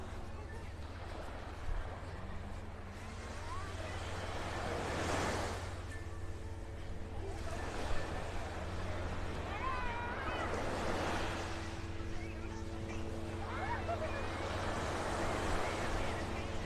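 Surf breaks along Vanderbilt Beach in North Naples, Florida, as a constant wash with broader swells every few seconds, while faint voices and distant activity carry underneath.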